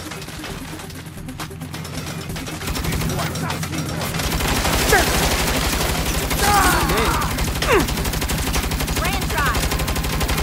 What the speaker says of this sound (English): You better shoot that turret like you shoot off your mouth.